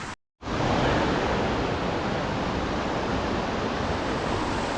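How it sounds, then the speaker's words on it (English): Steady, loud rushing of a small stream and waterfall at Maunawili Falls, Oahu, continuous broadband water noise after a brief dropout at the start, with no talk. "continuing upstream to what may be a baby waterfall."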